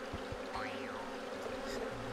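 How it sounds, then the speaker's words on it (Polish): Bees buzz around in the video game Tygrysek i Uczta Kubusia, a faint continuous drone with a brief rising and falling whine as one passes close, under a quiet background. "Pszczoły nie dają spokoju"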